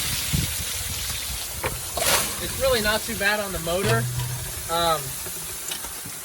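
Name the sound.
bucket of water poured over hot 1979 Ford engine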